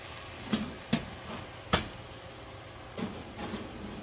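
Food sizzles under an oven broiler in a home steak-dinner kitchen, a steady soft frying hiss broken by a few sharp clicks and taps as tomatoes are flipped, with no one talking.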